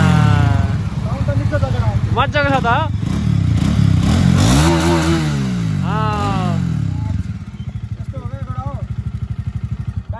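A motorcycle engine idles with a fast, even putter, then revs up and down several times in loud close rising and falling sweeps, settling back to a steady idle while a voice speaks briefly over it.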